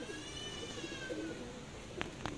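Racing pigeons that have just landed coo softly in a low, murmuring rhythm, faint and close, with a couple of brief sharp taps near the end.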